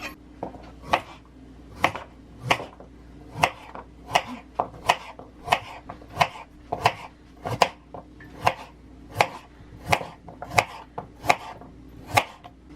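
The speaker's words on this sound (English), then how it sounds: "I'm going to cut off the ends" A knife chops through peeled carrots on a cutting board while making Japanese curry, giving a steady run of about twenty sharp, close knocks spaced roughly half a second apart, with no talking.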